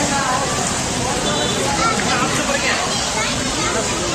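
Heavy rain pours down steadily in Udumalaipettai, Tamil Nadu, a dense, unbroken hiss of water on surfaces that stays at an even loudness throughout.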